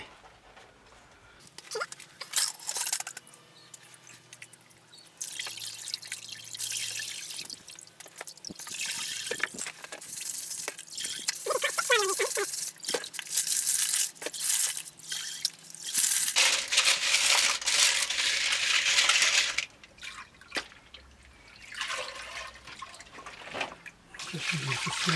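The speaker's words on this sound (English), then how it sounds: "Now I've got a barrel here I need to wash out." Water splashes and trickles while a rock tumbler barrel is rinsed out, irregular pouring and sloshing with drips that swell louder toward the middle and end, close by, with little talk.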